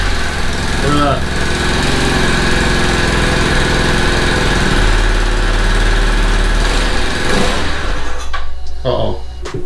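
A cheap, neglected Yamaha Zuma scooter engine cranks, fires and runs on premium fuel, a loud close buzzing drone with a few surges and a sudden drop near the end.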